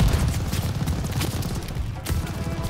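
Gunfire in the video game Call of Duty: Vanguard, set in a desert war map, crackles as a continuous stream of rapid shots and bursts with low booms, loud and dense throughout.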